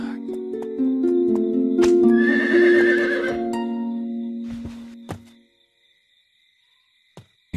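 A storybook sound effect of a horse: a loud, close whinny rises and falls for several seconds, followed by a few sharp hoof knocks, then near silence.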